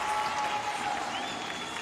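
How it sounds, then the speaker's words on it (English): A crowd at a gymnastics meet claps and cheers in a steady, broad wash of sound that stays fairly loud and unbroken throughout, with no distinct voice rising above it. "And so a roar from the crowd as it's announced that Maddie Carr will get set for her routine"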